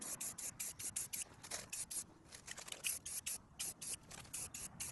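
A spray paint can applies a final color coat during a Wheel Horse tractor restoration, heard as repeated short hissing bursts with brief pauses between them, fairly faint and close, with no talking.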